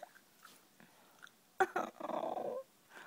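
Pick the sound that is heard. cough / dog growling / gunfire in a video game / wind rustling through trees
dog growling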